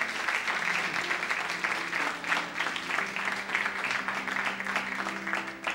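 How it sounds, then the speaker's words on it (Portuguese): Congregation applause at a church service, a steady dense wash of clapping filling the whole stretch, loud and continuous with a low musical hum beneath. "aplauda o Senhor, aleluia."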